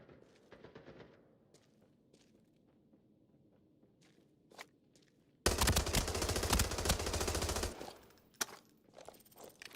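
Automatic F2000 rifle fire in a first-person shooter, a dense sustained burst of about two seconds near the middle after quieter footsteps and small game sounds, loud and close.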